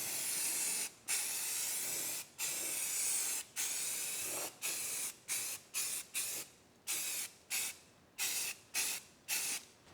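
A spray can lays down a heavy coat of paint over a rust repair in steady hissing bursts, about a dozen close, loud passes that shorten and quicken toward the end, with brief silences between them.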